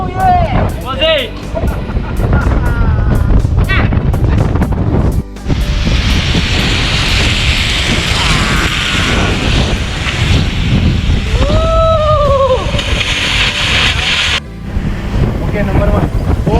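Strong wind buffeting a ship at sea, a loud continuous roar with rushing water and gusts that drop out briefly, with shouting voices over it.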